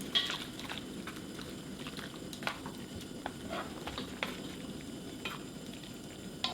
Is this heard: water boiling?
yes